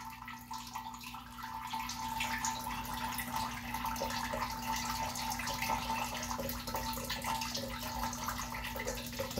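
A small homemade aquaponic system pump runs steadily, pushing water through its filter with a constant trickling, gurgling flow over a low motor hum, heard up close with no talking.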